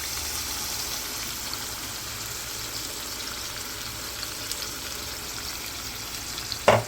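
Chicken frying in a pan as a cashew, yogurt and coconut paste is stirred in, a steady soft sizzle throughout and a sharp clack of a utensil near the end.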